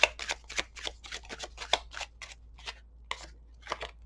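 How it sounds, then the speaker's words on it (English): Tarot cards are shuffled and drawn from a deck at close range, a quick run of crisp riffling flicks followed by a few separate slaps and slides of cards. "Let's get some cards out here for Capricorn's reading"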